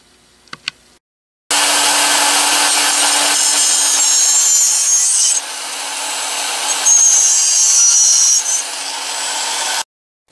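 A cutoff wheel slices through a small metal part for a model dynamo, giving a loud, steady high-pitched grinding whine for about eight seconds. The pitch shifts partway through as the cut progresses, then spins down to silence.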